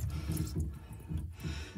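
Water trickles and splashes out of a newly installed sink P-trap under a double vanity, making a close, continuous gurgling leak with small pulses of dripping.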